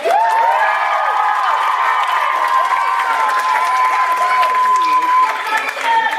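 Crowd cheering and shouting at a Battle of the Sexes II event as team captains take the field, a loud, continuous roar of many voices with some clapping mixed in throughout.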